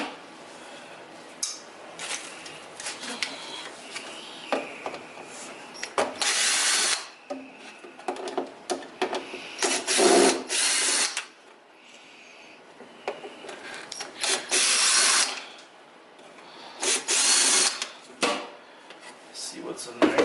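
Power drill spinning out screws from the body of a vintage Electrolux 1363 upright vacuum during a rebuild, several short whirring bursts separated by handling clatter, close and fairly loud.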